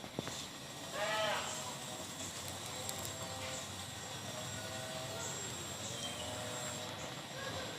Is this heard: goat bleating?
yes